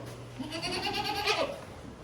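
Several goats bleat in a milking room on a Maine farm that makes goat cheese, their wavering cries close and steady throughout, with a quiet room hum underneath.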